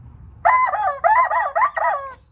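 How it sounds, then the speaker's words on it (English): Squawking pigeon novelty rubber toy squeezed to let out a loud, nasal honking squawk in three or four quick rising pulses, close and with no talk over it. "So we have our squawking pigeon."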